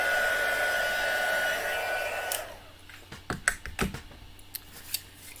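A heat tool melting embossing powder blows a steady loud whooshing hum for a couple of seconds, then cuts off, leaving scattered light clicks and taps of craft handling.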